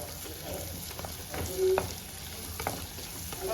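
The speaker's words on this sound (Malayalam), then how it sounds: "കറിവേപ്പിലയും ചേർത്ത് നന്നായിട്ട് ഇളക്കി നമ്മുടെ ഈ ഉള്ളി ഒന്ന് നന്നായിട്ട് ഞാൻ പറഞ്ഞല്ലോ വഴണ്ട് വരണം" Onions and curry leaves sauté in a pan for a Kerala-style brinjal curry, a steady low sizzle broken by a few scraping stirs of the spoon against the pan, close and fairly quiet with no talking.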